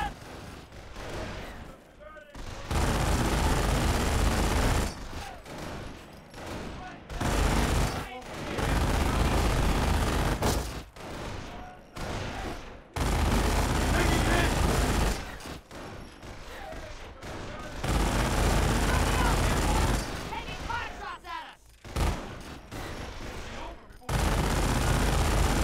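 Squads in Company of Heroes fire on an enemy patrol, with loud, dense bursts of machine-gun and rifle fire coming in long volleys separated by brief lulls.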